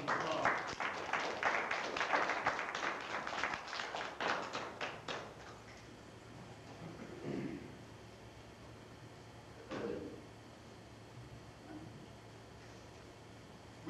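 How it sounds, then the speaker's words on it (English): A lecture audience claps in a quick round of applause for a camera operator, dense clapping for about five seconds that then thins out to a few scattered claps and room noise. "Let's give him a quick round of applause"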